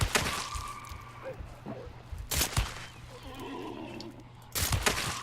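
A horse neighs and whinnies in Hunt: Showdown, a loud close cry near the start followed by further snorts, with sharp thuds breaking in between.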